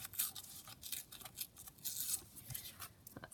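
Paper or light craft material torn by hand during a quick alphabet craft challenge, a run of short dry rips and crinkles close to the mic, fairly quiet, with no talking.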